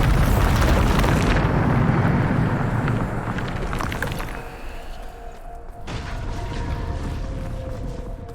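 A Bombarda blast spell in Hogwarts Legacy goes off as a loud, broad explosive boom with a long rumbling tail that fades over about four seconds, followed by a second, softer burst near the end.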